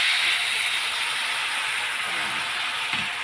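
Water poured into a hot pan of fried tengra fish curry, giving a steady broadband hiss and sizzle throughout, close and fairly loud, with no talk.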